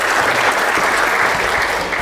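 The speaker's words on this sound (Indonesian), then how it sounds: "Sekali lagi kita kasih aplaus untuk dia." An indoor audience applauds a speaker at a talk event, a dense, loud, sustained clapping that fills the whole stretch without talk.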